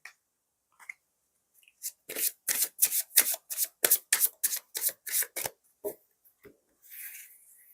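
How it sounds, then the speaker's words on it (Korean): Tarot cards riffled and shuffled in a rapid run of crisp, close snapping flutters, followed by a softer slide as cards are drawn, with no talking. "레노마드 카드도 2장 받아보겠습니다."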